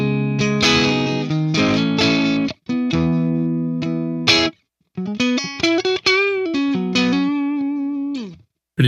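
Electric guitar played through the clean channel of STL Tones AmpHub, loud sustained chords and melodic phrases with brief pauses between them and no talking.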